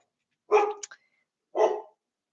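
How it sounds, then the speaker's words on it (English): A dog barks twice, about a second apart, two loud close barks with nothing else around them. "Shut up, my dog."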